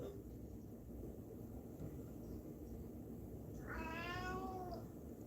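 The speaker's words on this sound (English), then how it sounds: "Meow. Meow." A cat gives a single drawn-out meow near the end, fairly close, over a quiet indoor rumble with no talk.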